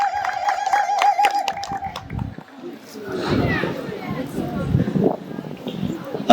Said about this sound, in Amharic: እስቲ ያደረሰንን እግዚአብሔር እጆቻችንን በማጨብጨብ እልል እያለን አመስግን።